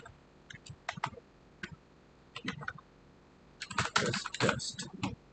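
Keys on a computer keyboard clatter in short, irregular bursts of clicks, sparse at first and then a quicker, denser flurry near the end, recorded close by.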